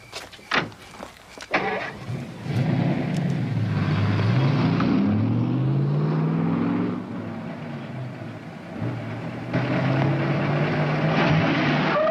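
A car pulls away after being filled with fuel, in an old colorized film: a door thump and clatter, then a loud engine rising and revving as the car drives off, with a steady motor drone under the whole scene.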